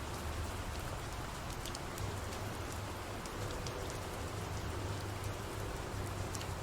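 Steady rain falls across a 3D environment scene, a dense, continuous hiss of drops with no break, evenly loud throughout and heard alone.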